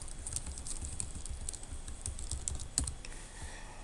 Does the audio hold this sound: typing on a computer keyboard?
yes